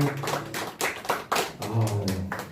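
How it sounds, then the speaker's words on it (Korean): A church youth congregation claps in blessing at a worship service, a short burst of group applause with uneven hand claps, close and lively, mixed with a sustained sung or hummed tone. "축복의 박수 쳐주세요."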